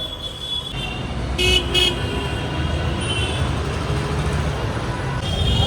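Evening street traffic in Delhi on a Sunday, with a steady roar of cars and other vehicles and several short car horn toots sounding nearby over the constant road noise.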